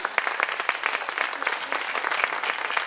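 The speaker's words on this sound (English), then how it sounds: "Let's give a nice round of applause for more" Audience members at a children's writing and theater workshop give a lively round of applause, a dense patter of many hands with crisp individual claps standing out, moderately close.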